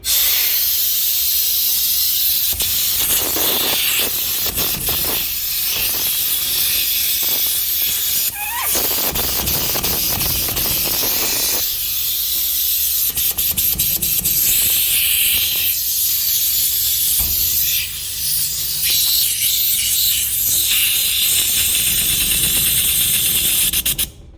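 An air compressor, left unused for months, blasts air out in a loud, sustained hiss that runs almost continuously with brief dips and sputters, with no talking.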